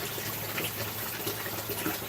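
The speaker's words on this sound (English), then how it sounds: "So I'm only doing a partial change of water" Steady running water from an Aqueon water changer during a partial water change on a cichlid aquarium, a continuous close wash of flow without speech.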